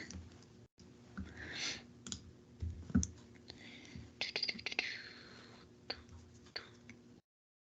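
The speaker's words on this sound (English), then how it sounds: "Everyone can hear me typing." Quiet clicking of computer keys, scattered and irregular taps with short pauses between bursts, set against faint room noise and soft breathy sounds.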